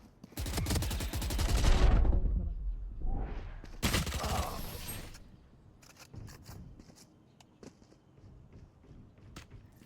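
Video game gunfire in a competitive shooter, a loud sustained burst of rapid automatic shots followed by a second volley, then scattered faint clicks and footsteps, with no talking.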